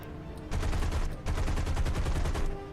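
Aircraft guns firing in a combat flight video game: rapid, loud machine-gun bursts that run for about two seconds, broken by a short pause near the middle, with no talk.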